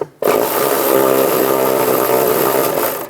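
A power tool, likely an impact or electric ratchet driving a 10mm socket, spins a nut off the accumulator band on a 2007-2013 Chevy Silverado, running loud and steady for about three seconds before winding down.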